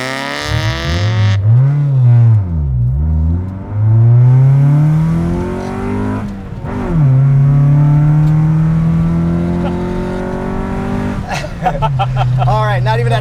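A 1994 Honda Civic with a 1.5 liter four-cylinder engine accelerates hard through several gears, the engine note climbing in loud sweeping pulls with brief drops at each shift, close and prominent.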